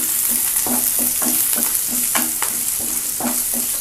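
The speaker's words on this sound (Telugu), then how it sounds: "ఈ పచ్చిమిర్చిని కొంచెం లైట్గా వేగిన తర్వాత" Green chillies fry in a pan for a tomato coriander chutney, a loud close sizzle layered with rapid, rhythmic stirring strokes of a spatula, no speech.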